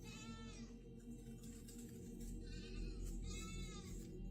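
A farm goat bleats twice in quick wavering cries, near and clear over a low steady outdoor rumble.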